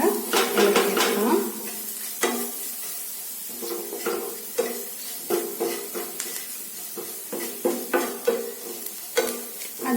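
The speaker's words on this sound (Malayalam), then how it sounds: "ഒരു 1/4 ടീസ്പൂണോളം മുളക് പൊടി ചേർത്തിട്ട് നമുക്കിത് നന്നായിട്ട് ഇളക്കിയെടുക്കാം" Spices stirred in a pan: coriander powder, turmeric and chili powder scraped around with a spoon in a steady series of close scraping strokes over a soft sizzle, with no voices.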